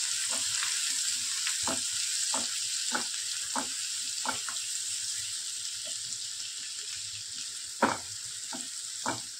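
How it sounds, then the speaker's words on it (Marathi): Onion fries with a steady hiss in a pan while a spoon scrapes and stirs in repeated knocks and taps, close and clear. "कांदा घालते, कांदा परतून घेऊ आपण."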